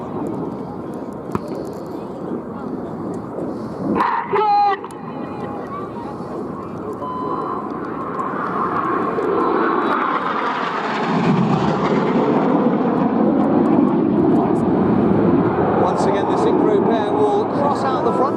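RAF Red Arrows display jets go to full power and turn away, a broad roaring engine wash that swells and grows steadily louder through the second half, with a commentator talking over it at a flying display.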